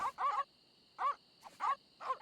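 Video game dogs in Monkey Island yap in four short bursts of barking and whimpering, fairly close and clear, with quiet gaps and a steady background tone between them.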